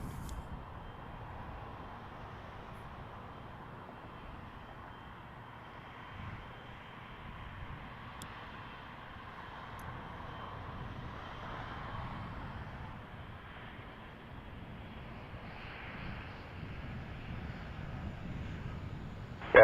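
An Air Canada Jazz airliner approaches to land at Toronto Pearson Airport, a faint, distant engine drone that swells slowly over about twenty seconds, with no voices.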